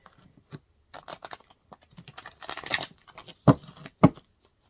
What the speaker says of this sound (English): that deck is shuffled